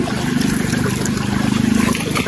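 A strong river current rushes and churns steadily close by, loud and continuous with no talk over it.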